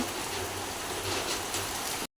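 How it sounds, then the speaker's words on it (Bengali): Steady rain and storm wind lash a coastal village in Bangladesh during Cyclone Remal, a dense even roar of falling water with gusty swells and no voices. "এখনো পর্যন্ত বৃষ্টি আর ঝড় হচ্ছে কি পরিমাণ"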